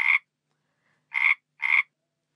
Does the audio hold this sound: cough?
no